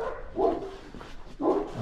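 Dogs barking in two close, loud bursts with a short gap between, no talk over them.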